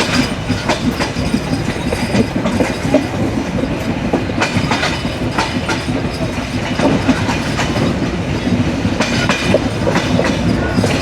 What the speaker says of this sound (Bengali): কার্ভ নিয়েছে এই বনলতা এক্সপ্রেস। আর এই কার্ভটি এইরকমই।